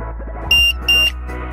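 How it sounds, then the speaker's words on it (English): The alarm of an SF-160 swing flap gate sounds as two short, loud electronic beeps in quick succession over a low steady hum. "With alarm and adopt anti-trap function."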